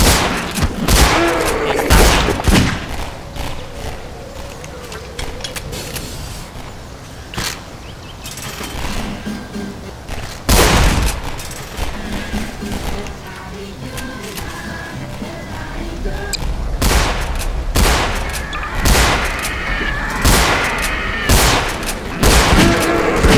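Rapid gunfire from the video game Garry's Mod comes in loud bursts and single sharp shots, close and frequent throughout, with some game noise in between.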